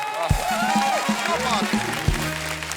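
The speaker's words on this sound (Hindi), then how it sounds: "उनके लिए जोरदार तालियां हो जाए" A studio audience at a comedy talk show breaks into steady applause, a broad hiss of clapping beneath voices and musical tones.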